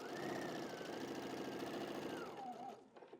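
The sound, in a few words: sewing machine sewing a basting stitch on fabric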